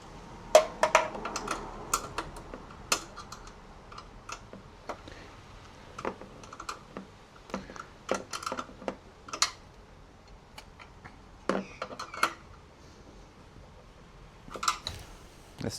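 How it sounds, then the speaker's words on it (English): A wrench tightens bolts on a Cusco master cylinder brace in a Subaru WRX engine bay, giving scattered sharp metallic clicks and ticks at an uneven pace over quiet background. "then we'll go in with the wrench"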